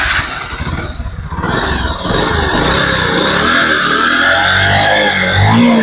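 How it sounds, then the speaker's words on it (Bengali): A Pulsar motorcycle with about 68,000 km on it starts up close by, and its engine settles into a loud, steady running noise with an unhealthy, rough tone. "তো সাউন্ডটা শোনাচ্ছি দেখুন, বাইকটা স্টার্ট দিয়ে দিচ্ছে।"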